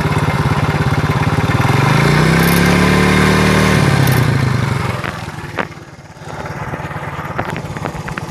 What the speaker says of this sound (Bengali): তো দেখতেই পারলেন 1 কিকেই কিন্তু স্টার্ট নিছে, আর বাইকের সাউন্ড কোয়ালিটিটাও কিন্তু মোটামুটি অনেকটা ভালো আছে।